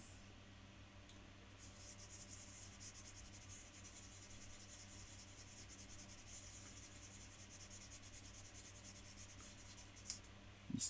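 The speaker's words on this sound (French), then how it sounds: "je garde le même papier, mais je prends un petit peu d'eau." Quiet, continuous rubbing of wet sandpaper on a plastic T-34/85 model tank track, a faint steady scratchy scrubbing with no talk.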